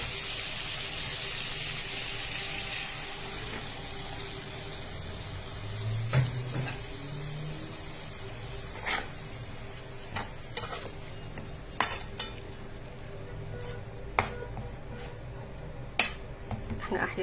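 Tomatoes go into a hot pan where chicken was browned, frying with a steady sizzle while a utensil stirs and scrapes, sharp clinks against the pan recurring every second or two, close and with no talk.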